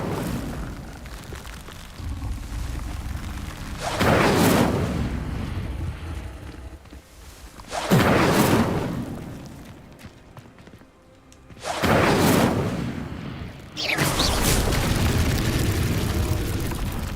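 Incendio fire spell blasts in the video game Hogwarts Legacy, four roaring whooshing bursts, each swelling and fading over a couple of seconds, recurring at regular intervals above a rumbling background.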